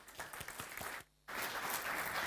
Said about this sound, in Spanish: Recibimos con un fuerte aplauso a José.